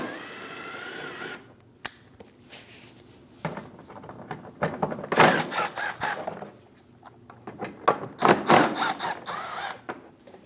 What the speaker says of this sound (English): Using a 7mm socket, we're going to remove the 3 bolts inside our inner fender liner.